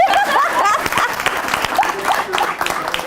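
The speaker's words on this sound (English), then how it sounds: "I want one solid round of applause for her since the last one was a little awkward" A crowd at a live arts marketing session gives loud, dense applause that runs continuously throughout, with cheering voices and a little laughter mixed in.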